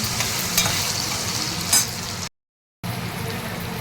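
Potatoes and fresh green peas frying in a pan as they are stirred, giving a loud close sizzle with scraping stir sounds and a brief silent gap partway through.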